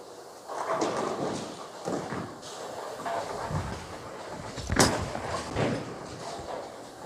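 A Radical Closer Pearl bowling ball rolls down the lane with a steady rumble, then strikes the pins in one sharp crash that leaves the 10 pin standing. Pins clatter briefly afterward in a lively alley, with no voices.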